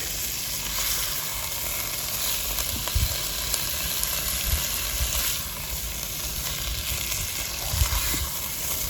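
Chicken and vegetables with broth simmer in a Dutch oven over a campfire, giving a steady, close sizzle with soft bubbling and a few faint stirring knocks throughout.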